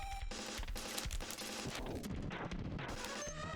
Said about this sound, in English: Because I've got a wall of Homing Torpedoes.